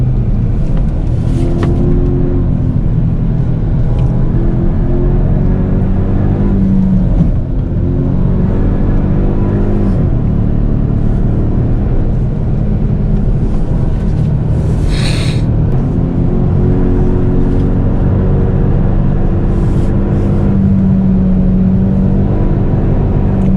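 A Genesis G70 Shooting Brake pulls away and drives on a winding road, its engine a steady low rumble with shifting revs and whir, loud and continuous with no talk.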